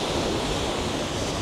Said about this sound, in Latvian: Akmeņainā pludmale.